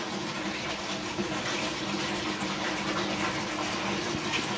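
Continuous rushing water pouring into a container, loud and steady throughout with no pauses.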